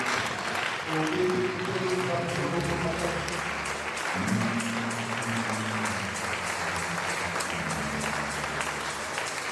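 A church congregation claps and acclaims the Lord, a steady wash of applause running the whole time, with voices singing or calling out over it.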